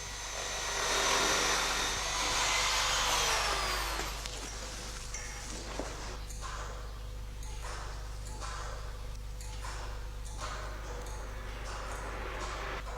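A mechanical jigsaw cuts a methacrylate sheet in a clockmaker's workshop. A thin whine fades after a few seconds, then gives way to a quiet, steady run of rhythmic cutting strokes over a low hum, with no talking.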